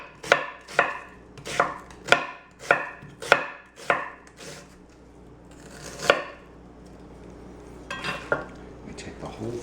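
A knife chops food into thin slices on a cutting board with a steady run of sharp, close knocks, about one per half second, then slower scattered chops with faint kitchen clatter.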